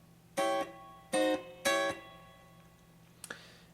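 Guitar strings chopped in three quick staccato chords from a song's second verse, close and crisp, followed by a faint scrape of fingers on the strings before stopping.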